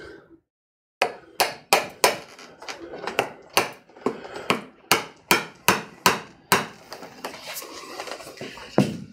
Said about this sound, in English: But I'll do it with a hammer instead of the screwdriver first.